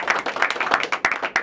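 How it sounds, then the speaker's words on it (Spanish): Applause from a crowd at a televised tribute event, a short burst of brisk, moderately loud clapping with individual claps standing out. "Un aplauso para nuestro valiente guerrero y para nuestro héroe caído."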